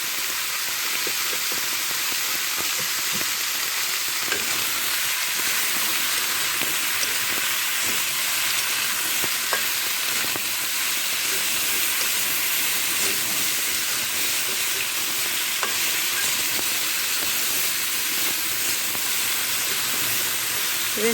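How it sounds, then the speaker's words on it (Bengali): Sliced ridge gourd frying in hot oil with salt and turmeric, a loud, steady, unbroken sizzle with faint scattered clicks of stirring throughout. "এবার নাড়িয়ে ভেজে নিতে হবে।"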